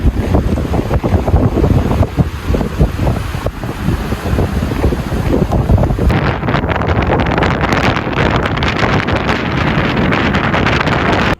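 Strong, gusty wind blows hard outdoors on a cold, slippery day, roaring loudly and continuously into the microphone with heavy buffeting throughout; no voices are heard.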